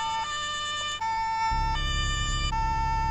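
A police car siren in the game Autobahn Police Simulator 3 wails in a steady two-tone pattern, with an engine rumble joining partway through, loud and close with no talking.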